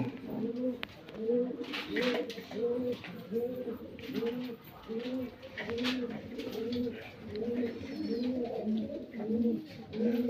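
Fancy pigeons in a loft coo in a continuous overlapping rhythm of low, rolling calls, close and clear, with faint background noise and occasional human voices nearby.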